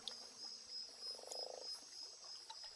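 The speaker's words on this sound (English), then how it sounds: "there's the sound of the tree frogs" Tree frogs croak in a jungle at night, a soft pulsing chorus over constant insect buzz and a faint high whine, fairly distant and quiet.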